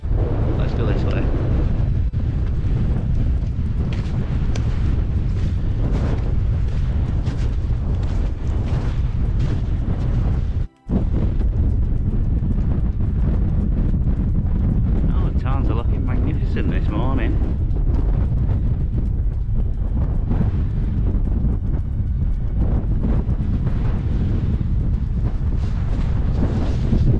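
Storm-force wind on an exposed hilltop roars steadily and loudly into the microphone as heavy buffeting, with a brief cut partway through and a voice faintly under the din.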